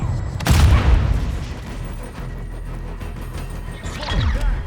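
A Semtex grenade explodes in Call of Duty Modern Warfare, a loud close boom with rumbling debris, followed by ongoing battle noise and a second blast near the end.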